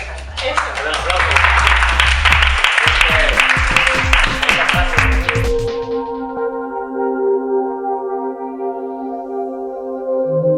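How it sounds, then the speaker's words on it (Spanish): An audience at a social entrepreneurship civic lab gathering in Sant Boi de Llobregat claps loudly and densely for about six seconds, then the applause stops abruptly and sustained musical tones take over. "Un aplauso."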